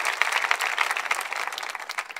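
A church congregation applauds and cheers during a French-language sermon, a brief burst of dense, steady clapping with no speech over it.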